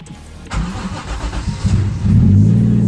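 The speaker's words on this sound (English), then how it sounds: "so start my car" A Toyota 1JZ car engine cranks over and catches, then settles into a loud, steady running rumble close by.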